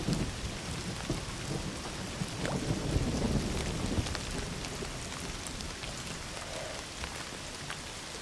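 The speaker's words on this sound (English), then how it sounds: "Don't you love rain?" Steady heavy rain pours down continuously, a dense close hiss with low rumbles of thunder beneath it.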